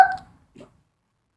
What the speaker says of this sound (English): My hiccups are still going on. I hate hiccups.